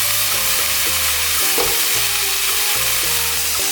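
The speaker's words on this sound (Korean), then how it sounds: "고기가 적당히 익으면 고기를 한쪽으로 밀고 숙주를 넣어 가볍게 볶아줍니다." Pork and mung bean sprouts stir-fry in a hot pan, a steady close sizzle with regular scraping and stirring strokes repeating about every half second throughout, with no voices.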